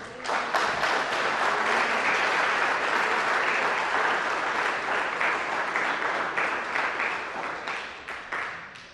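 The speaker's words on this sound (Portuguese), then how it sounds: "Aplauda esse Deus maravilhoso." A church congregation applauding during a worship service, a full, steady roar of many clapping hands rising quickly and sustained for several seconds before trailing off, without speech over it.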